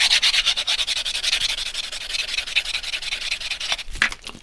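A handheld nail polisher buffs and sands a painted second-hand Dokkaebi model, a steady rapid scratchy rubbing with a fast pulsing texture, close and continuous for a few seconds before a brief clatter.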